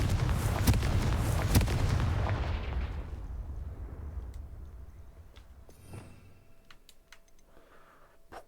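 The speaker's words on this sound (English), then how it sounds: "폭발." Spell explosions in the video game Hogwarts Legacy, such as Confringo: a loud, booming blast with rumbling impacts that slowly fades over a few seconds, followed by quieter scattered clicks and thuds.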